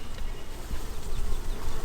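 Honey bees buzz at an open hive in a dense, continuous drone, loud and close, with no talking over it.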